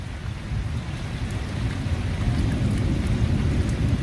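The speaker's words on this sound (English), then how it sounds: "that is such a severe thunderstorm" Severe thunderstorm with steady heavy rain and a low continuous rumble, rising slightly in loudness, with no distinct thunderclaps and no talk.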